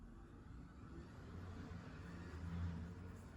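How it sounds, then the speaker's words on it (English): Loud cars go by outside on the street, coming through indoors as a faint, steady low engine drone that swells slightly near the end, with no talking. "There's a lot of cars outside today, loud cars."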